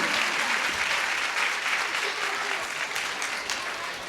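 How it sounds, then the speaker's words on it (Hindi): Audience applause for a small girl at a religious training camp in Lalitpur, Uttar Pradesh: a full, continuous round of clapping from a crowd, close and steady, tapering slightly toward the end. "विशेष तालियां होनी चाहिए, बालिका बहुत छोटी है।"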